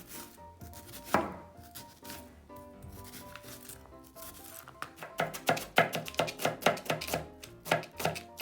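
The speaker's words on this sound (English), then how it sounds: "We cut our onion." A knife chops onion on a board, a few scattered cuts at first, then a fast, steady run of crisp, close strikes, with faint tonal background sound throughout.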